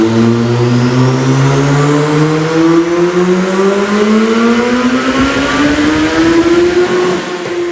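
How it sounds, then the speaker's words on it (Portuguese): Turbocharged Suzuki Hayabusa motorcycle held in fifth gear on a dynamometer roller, its engine note climbing steadily in one long, loud, sustained rev with a rising whine and no talk. "Eu vou passar a moto de quinta marcha e observem a velocidade que essa moto vai dar de quinta."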